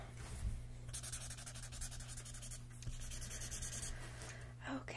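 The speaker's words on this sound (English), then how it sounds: "Go ahead and write that down." Pen writing on paper in a quiet room at a doctor's check-up, a close, soft continuous scratching of strokes running for several seconds with slight breaks, low hum beneath.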